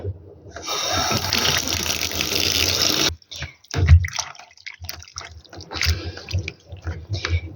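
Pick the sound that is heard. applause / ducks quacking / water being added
water being added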